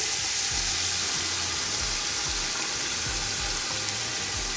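Yogurt and tender cooked mutton sizzle and fry steadily in a pot for a potli yakhni pulao, with a dense hiss and faint occasional stirring scrapes, close and continuous without speech.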